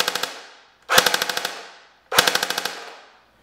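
An airsoft gun fires two short full-auto bursts, each a rapid string of sharp cracks with a faltering, hiccuping gearbox rhythm, separated by a brief pause and loud and close.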